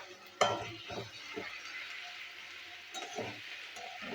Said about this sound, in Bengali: চিকেনটা আমি ফ্রাই করে নেবো